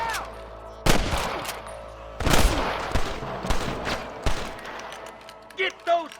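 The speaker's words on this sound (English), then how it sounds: "I can hear more gunshots." Sharp gunshots crack out in the Western video game Red Dead Redemption, a few loud isolated shots and short bursts spaced irregularly, with voices shouting between them.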